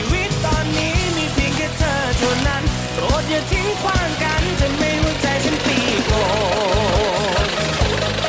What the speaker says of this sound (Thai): ครื่องนิสสันฟ้าแดงนะครับพี่เอ็ม